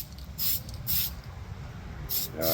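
Pearl clear coat sprayed onto a Tamiya RC car body in a few short, light hissing passes with pauses between them, close by and fairly quiet.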